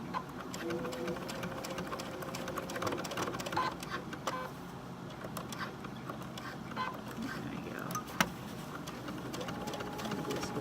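A sewing machine stitches the hem of a pair of shorts, its motor buzzing in short, uneven runs as it slows over a seam bump, close by with a voice talking over it.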